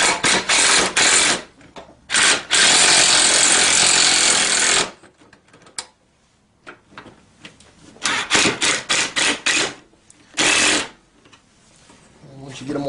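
Power tool driving and tightening bolts during assembly of a Tao Tao CY50A scooter, in loud repeated bursts of whirring separated by quiet gaps and small clicks.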